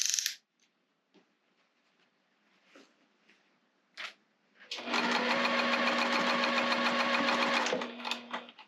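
A sewing machine stitches around a fabric basket in one long loud rapid run after a few scattered clicks and handling taps, then slows and stops near the end.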